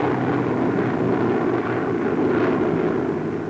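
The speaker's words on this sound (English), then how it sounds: "the bombers roar upon their mission" Heavy, steady roar of a large fleet of World War II B-24 Liberator bombers flying overhead on a 1943 mission across the Mediterranean, a dense continuous drone filling the air with no gaps.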